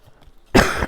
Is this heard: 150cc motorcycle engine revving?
no